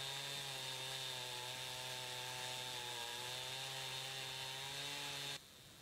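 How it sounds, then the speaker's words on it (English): A chainsaw runs steadily at full throttle, splitting a log into bowl blanks, its loud buzzing drone holding a constant pitch for about five seconds before cutting off abruptly. "taking my chainsaw and I'm just splitting this."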